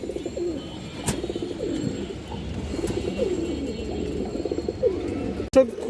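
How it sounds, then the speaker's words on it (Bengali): Rare pigeon coos in low, throaty rolling phrases, close and steady, with a brief sharp knock near the end. "একদম রেয়ার একটা কবুতর"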